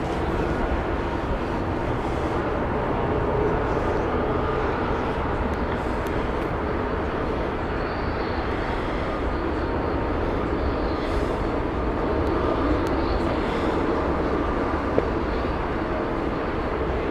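Steady broadband roar of an airliner taxiing or passing at Heathrow Airport, continuous and fairly loud for the whole stretch with no talking.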